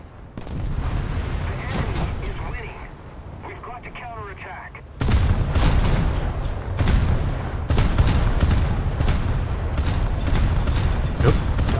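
Warship guns firing in a naval video game, heavy booming salvos arriving in clustered bursts with rumbling echoes, under intermittent spoken commentary.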